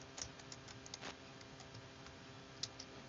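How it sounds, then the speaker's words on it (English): Someone types a prompt on a computer keyboard, soft irregular key clicks with a few sharper taps, faint and close over a low background hum. "this is terrible, terrible typing"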